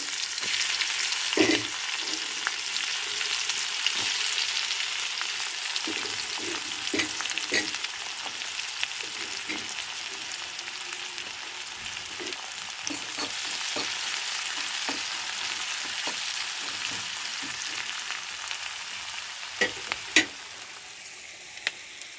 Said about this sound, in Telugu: తాలింపు గింజలు కాల్ని ఇప్పుడు ఉల్లిపాయలు మిక్స్ చేసుకున్నాం